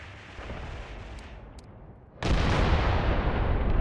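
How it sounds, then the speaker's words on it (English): Artillery salvos in the video game Mius Front: a low, rumbling barrage swells in, dips away, then lands as a sudden heavy wall of booming fire that rolls on to the end. "Here our first artillery salvos is coming in, and the infantry gun was disposed of"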